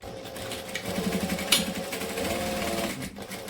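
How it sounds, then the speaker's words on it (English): A sewing machine stitches fabric with a rapid mechanical chatter, running in one short burst and then a second steady run, close and moderately loud. "I'm just going to stitch that one down as well"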